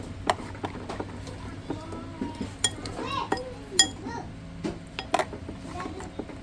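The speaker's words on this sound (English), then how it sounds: "so we're gonna mix this up nice" Seasoning being stirred in a bowl with onions, masala, curry powder and jeera nearby: scattered clinks and scrapes of a utensil against the dish, moderately close, with a voice chattering faintly underneath.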